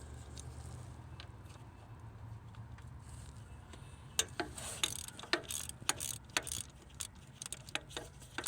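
A ratchet works the 14 mm starter motor bolts on a 2005 Toyota Camry four-cylinder, producing quick, sharp metallic clicks in irregular bursts after a few seconds of low background hum.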